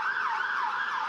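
An ambulance siren on an emergency response wails up and down in a smooth, rising-and-falling tone, brief and moderately distant.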